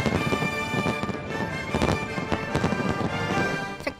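Fireworks bursting over Victoria Harbour in Hong Kong during a National Day night display, a dense run of sharp cracks and pops crowding closely together at steady loudness, with no voices heard.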